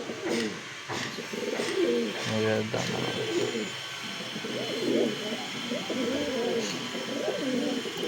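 Two Hiralal pigeons coo repeatedly in soft, low, rolling calls nearby, with people talking and faint background noise.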